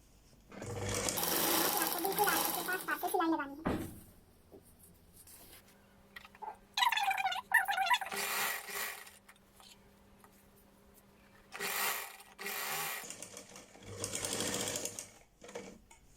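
A sewing machine stitches elastic into the folded waistband of ladies' trousers in several loud, close bursts, with pauses between runs while someone talks.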